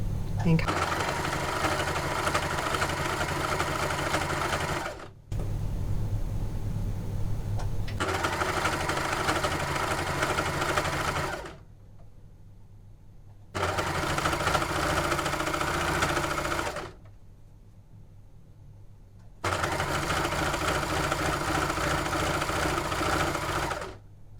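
A Janome overlocker stitching a folded lace edge runs in four long bursts of steady, fast mechanical whirring, with quiet pauses between runs and some talking.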